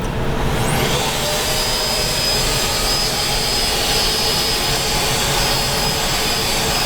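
Dreame Bot L10 Pro robot vacuum running in turbo mode, a loud steady jet-like whoosh of suction with a thin high whine, continuous and close, with no talking.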